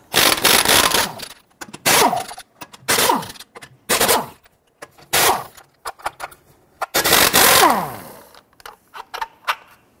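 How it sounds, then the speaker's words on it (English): Impact wrench with a 21mm socket loosening and removing lug nuts from a front wheel of a 2005-2021 Nissan Frontier: loud, close, rattling bursts of hammering, about seven of them, separated by short pauses. "Using a 21mm socket, go ahead and loosen and remove your lug nuts."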